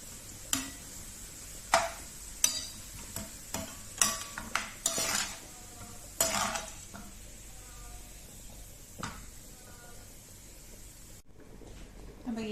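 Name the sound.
scooping fried golden onions out of hot oil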